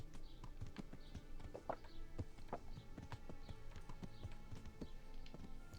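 Horse hooves clip-clop at a walking pace in the medieval video game Kingdom Come: Deliverance, sharp irregular hoof knocks near and clear over a quiet village ambience.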